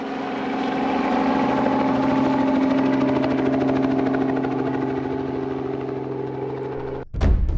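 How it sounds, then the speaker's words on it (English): A helicopter carrying a rhino calf lifts off, its rotor and engine roar steady and loud for several seconds before cutting off abruptly, followed by a brief jolt of noise. "Loaded this little animal onto the back of the vehicle and then straight into the back of the helicopter, put the seatbelt on, and off she went."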